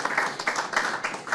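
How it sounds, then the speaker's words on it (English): A brief burst of audience applause at an economic conference, many hands clapping in a dense, steady patter with no voices. "a round of applause for them again."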